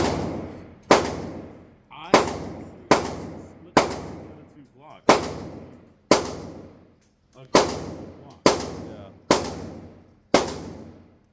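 A firearm is test-fired in about ten loud, sharp single shots spaced roughly a second apart, each crack trailing off in a short echoing decay, with no talk between them.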